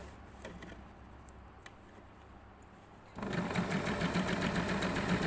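Sewing machine stitching a fabric flounce near a fold, starting after a few quiet seconds with light handling noises, then running in a fast steady whir, close and clear.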